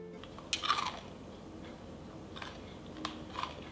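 Soft, close chewing of a baked food shaped like a squishy toy, with a few faint crunchy bites at the start and quiet mouth sounds afterward, and no talking.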